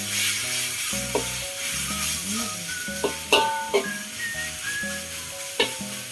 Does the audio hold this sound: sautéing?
yes